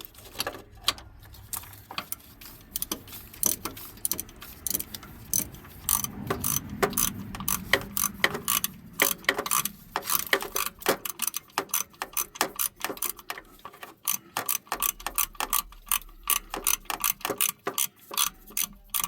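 A socket ratchet clicks in irregular bursts on an engine mount bolt of a 2009 GMC, sharp close ticks with short pauses between runs and faint background noise.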